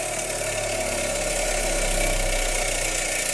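A Ryobi BG612G bench grinder fitted with a wire wheel hums steadily nearby as it spins down, a continuous motor whine with a low vibrating rumble and no talking.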